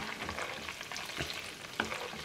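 Homemade ghee bubbling in a pan as butter is rendered, a steady close crackling sizzle with small pops and a brief clink of stirring, no voices.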